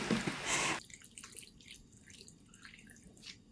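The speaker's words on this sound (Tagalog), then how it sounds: "ilagay ang pork belly, lagyan ng tubig." Water poured into a pan holding pork belly, a short loud close pour under a second long that stops abruptly, followed by faint clinks and drips.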